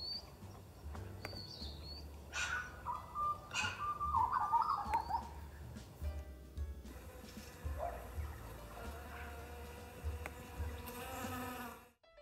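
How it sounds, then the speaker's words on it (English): Bees buzzing outdoors, captured on an iPhone during a morning walk: a steady close drone with passing buzzes, faint bird calls mixed in behind. "We now need to add some bee sounds."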